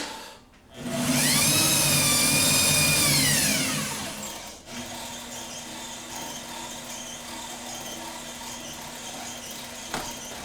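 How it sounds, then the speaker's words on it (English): A metal lathe machining aluminum starts up with a rising whine that holds at a high, steady pitch, then winds down into a lower, continuous motor hum, ending with a brief sharp tick. "spin the lathe, fire it up"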